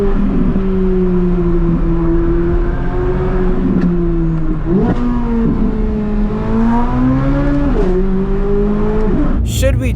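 A C8 Corvette Z06 revs on launch control, its engine holding a loud, close, buzzing drone with pitch that dips and rises in repeated surges, while tires faintly squeal near the end.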